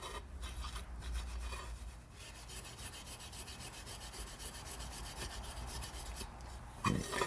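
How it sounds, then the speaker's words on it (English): Very fine 4/0 steel wool rubs back and forth over a surface in a quiet, steady scratchy rhythm, close and soft, with a brief knock near the end. "I've got some 4/0 steel wool, very fine stuff, just to take the surface off"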